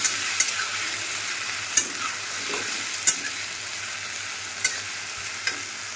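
Ginger-garlic paste sizzling with onions in a pan, a steady soft frying hiss with a few sharp clicks and spatula taps scattered throughout, close and fairly quiet, no talking.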